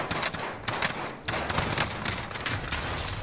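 Dense gunfire in Warzone (Modern Warfare battle royale), with continuous overlapping shots and bursts that crackle loudly throughout, briefly dipping twice before resuming.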